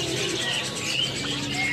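Caged birds, including doves cooing and small birds chirping, at a kiosk in Pramuka bird market in Jakarta where starlings are sold, a dense steady chorus of calls and tweets with busy background noise.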